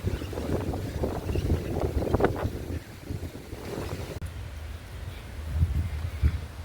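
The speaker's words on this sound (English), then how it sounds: "Very, very windy here today." Strong wind buffets the microphone in a steady, rumbling roar with gusts rising and falling, and no voices, at a race club near Condobolin, New South Wales.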